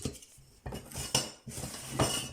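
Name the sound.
items clinking while tidying away a small storage tray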